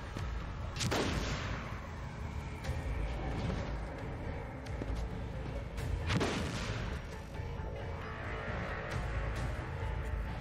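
Plasma weapons fire in a Warhammer 40k Rogue Trader battle, sounding as a few heavy sharp blasts spaced seconds apart over a constant dense rumble of combat.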